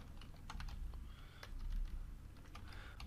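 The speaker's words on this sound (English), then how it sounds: "I can type in a caption." Typing on a computer keyboard while entering a photo caption, a steady run of light clicking keystrokes close by with no talking.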